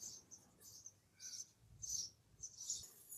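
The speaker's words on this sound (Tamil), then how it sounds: "நாலு பாக்ஸ்லயுமே சிட்டுக்குருவி தான் இருப்பாங்க" Sparrows in nest boxes feeding their chicks, a few faint high chirps and tweets coming in short bursts against a quiet background.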